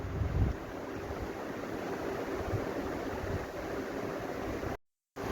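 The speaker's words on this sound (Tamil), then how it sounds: "ஸோ இந்த மாதிரி நல்லா கொதிச்சு வந்துருச்சு." Pizza sauce with garlic and ginger boils vigorously in a pan, giving a steady, dense bubbling hiss that runs close and unbroken for about five seconds before cutting off abruptly.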